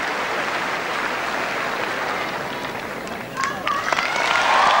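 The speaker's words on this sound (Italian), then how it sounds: "Ed ecco l'applauso per Patrick Rafter" The Wimbledon crowd at the 2000 men's singles final between Sampras and Rafter applauds Patrick Rafter with a broad, continuous wash of clapping that swells toward the end, while an Italian television commentator speaks over it.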